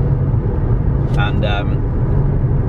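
Steady low rumble of a car cruising on a long road trip, constant road and engine drone throughout with a brief spoken word partway through.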